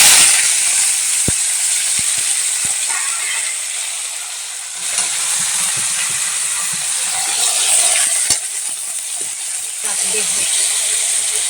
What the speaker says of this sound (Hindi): तो चलिए इसमें हम फोरन डाल देते हैं हरा मिर्चाई